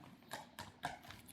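Horse hooves clip-clop in a quick, even rhythm, about four distinct beats in little more than a second, fairly faint and heard on their own.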